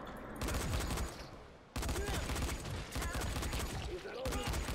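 Sustained automatic gunfire in the game Dying Light as magazines are emptied into an enemy, dense bursts that cut out briefly and then resume, continuous and fairly close.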